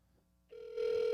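A telephone call tone starts faint, then a sustained electronic ring tone sounds clearly and steadily through the line, with no talking over it.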